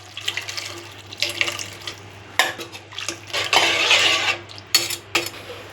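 Water pours into a sizzling pan of masala for roadside-style chickpea sundal in several bursts, with spoon clatter and scraping against the metal between pours, close by.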